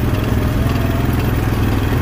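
A chainsaw engine drones steadily at close range, loud and unbroken, with no voices.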